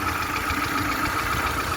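A 2008 Hyundai Santro Xing GLS petrol hatchback engine idles steadily, a close, even mechanical hum with a faint ticking texture and no voices over it.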